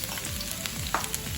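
Garlic sautéing in a pan for Filipino laing, a steady close sizzle and fry with light stirring scrapes, continuous and fairly loud with no talking.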